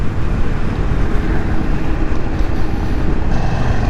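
A 2022 Indian Chief Dark Horse motorcycle engine rumbles around 3000 RPM while riding, a dense, loud, continuous low drone mixed with heavy wind rush.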